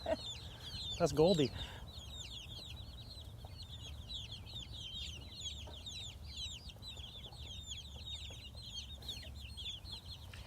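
A silver-laced Leghorn chicken clucks outdoors in a field, giving a steady run of soft, rapid clucks close by, with a brief spoken voice near the start.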